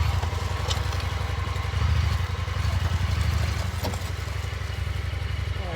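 An ATV engine runs steadily in 4-wheel drive while pushing a Groundhog Max plow, a loud, close, rumbling drone with light clatter and a slight swell in the middle.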